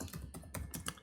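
Quick typing on a computer keyboard while entering code, a handful of crisp key clicks in close succession, near and fairly quiet with no voices.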